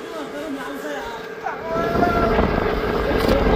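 Sea near a beach on the north coast, waves washing in under gusty wind buffeting the microphone, rising into a louder broad rush partway through, with a voice talking briefly at the start.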